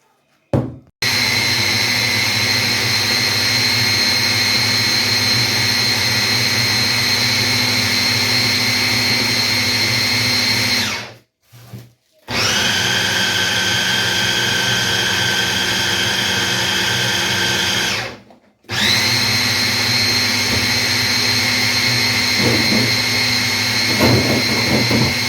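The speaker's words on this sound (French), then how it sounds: "On va mixer." A blender grinds pistachios for pistachio balls in a steady, loud whir, stopping twice briefly before starting up again, with no talking.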